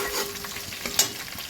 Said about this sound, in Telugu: కొంచెం వేగిన తర్వాత అందులో 2 టేబుల్ స్పూన్స్ శనగపప్పు వేసుకోవాలి.